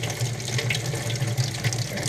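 Tap water runs steadily into a sink as vegetable wedges are rinsed beneath it, giving a close, continuous splashing hiss with a low hum underneath.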